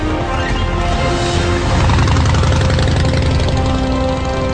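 A motorbike engine with fuel injection idles steadily and loudly close by, a continuous low rumble with a faint knocking texture and no voices over it.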